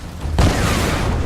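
A sudden loud blast in the Tomb Raider video game, a sharp boom followed by a sustained rumbling roar that fills the rest of the moment, amid lava-filled surroundings.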